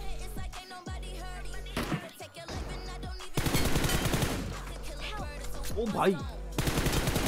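Rapid gunfire from a Mini rifle in the mobile game BGMI cracks out in repeated bursts over game audio and music, with a voice briefly exclaiming.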